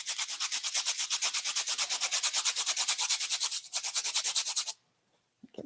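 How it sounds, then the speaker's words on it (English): Steady, rapid scratchy rubbing of two pieces of white craft foam together like a sanding block, close and rhythmic, continuing for several seconds before stopping abruptly into near silence. "just rub the two pieces together, and it acts like a sanding block"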